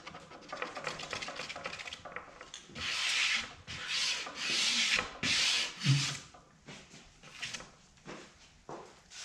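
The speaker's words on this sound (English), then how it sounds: "So just rub everything down one last time." A cured resin camouflage flag piece is rubbed down by hand, giving close, scratchy rubbing strokes in bursts, some longer and louder in the middle, with brief pauses between.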